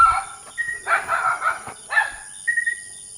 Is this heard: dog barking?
yes